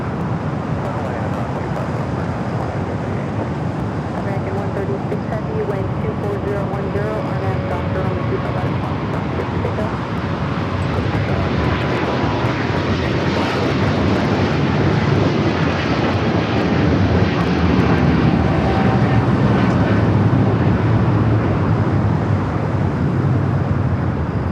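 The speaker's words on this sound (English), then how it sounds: "got that American 777" An American Airlines Boeing 777 heavy jet takes off from runway 25 left at LAX, its engines a broad, steady roar that swells gradually over about twenty-five seconds.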